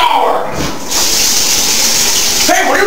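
A shower runs with a steady, loud hiss of water spraying and splashing, and a brief dip partway through before the flow resumes.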